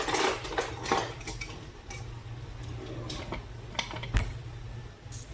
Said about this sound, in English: So we'll spoon those out with a slider spoon.